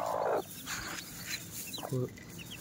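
A mother hen clucks softly beside newly hatched forest chicks at home, low repeated clucks with thin chick peeps scattered over a quiet background; short and close.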